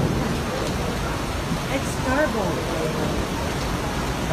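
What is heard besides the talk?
heavy rainfall at Heraklion airport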